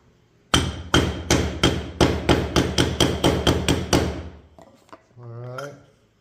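Steady hammer blows tap a fork bushing down into a Honda Monkey front fork tube, about a dozen loud, evenly spaced metallic strikes close by, followed by a couple of lighter knocks and a brief voice at the end.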